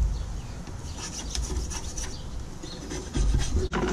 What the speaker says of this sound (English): giving it a little bit of a scrub down